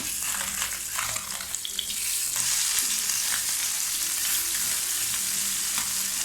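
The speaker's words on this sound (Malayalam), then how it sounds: "പിന്നെ അവിടെ തന്നെ മീൻ ഫ്രൈ ചെയ്യാനായിട്ടും വെച്ചിട്ടുണ്ട്" Fish frying in a home kitchen pan, giving a continuous dense sizzle and crackle that holds steady and close throughout, with faint clatter beneath and no talking.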